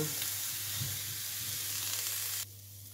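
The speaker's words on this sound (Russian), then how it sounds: "лук обжаривается и капуста" Steady sizzling of onion and cabbage frying in a pan, a broad bright hiss that continues evenly and then drops sharply near the end.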